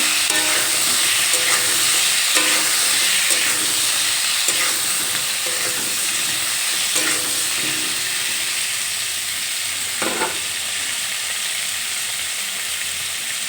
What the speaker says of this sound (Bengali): এই বাকি তেলের মধ্যে ফুলকপিগুলো ভাজার জন্য দিয়ে দিলাম